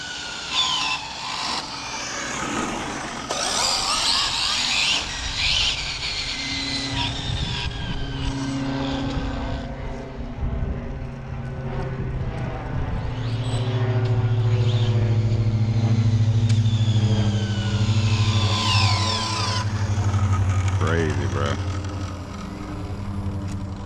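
An ARRMA Felony RC car being driven in a cramped spot, its electric motor whining loudly and steadily, the pitch swooping up and down as it speeds and slows for the whole stretch.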